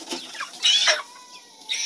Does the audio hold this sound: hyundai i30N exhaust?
no